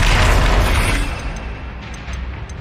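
Bombarda blasting spell in the Hogwarts Legacy video game: a heavy, close explosive boom with a rumbling, debris-filled tail that fades over a couple of seconds, followed by a few faint chimes.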